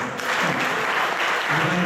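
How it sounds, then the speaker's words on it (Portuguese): Steady applause from a church congregation, a sustained wash of many hands clapping together at moderate loudness with no pauses. "Vamos receber com uma salva de palmas."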